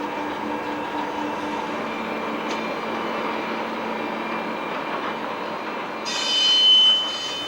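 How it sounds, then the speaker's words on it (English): Iron ore train unloading automatically at a furnace complex in Luleå, a steady rumbling rail din with tonal wagon squeal throughout, swelling louder with a bright high screech near the end. "The unloading of ore at the furnace complex is done automatically, allowing the driver time to clean the windows of his locomotive."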